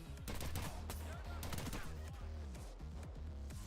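Rapid gunfire from a firefight in the heist game Payday 3, bursts of close, loud shots packed in a dense, steady stream with little pause throughout.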